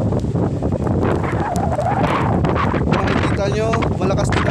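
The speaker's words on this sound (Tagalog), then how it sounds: "Medyo malakas ang hangin." Strong wind from Typhoon Rolly in Pasay, Parañaque roars and buffets the microphone continuously, with a voice faintly audible underneath near the end.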